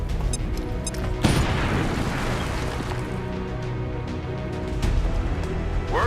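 A grenade explodes in the video game XCOM 2: a sudden loud, broad blast about a second in, followed by a long rolling rumble and debris-like noise that stays dense to the end.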